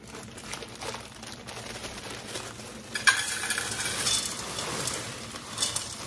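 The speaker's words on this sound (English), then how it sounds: "To that whole entire bag of ground beef, I'm gonna add this 32 ounce of mixed veggies." A 32-ounce bag of mixed vegetables goes into a pan of ground beef frying on the stove. A soft sizzle swells into louder crackling frying, with stirring and scraping in the pan.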